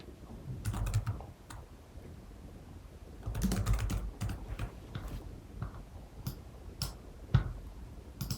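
Bursts of computer-keyboard typing, a component name being entered, with clustered key clicks in two main runs and scattered single taps, close and moderately loud, no talking.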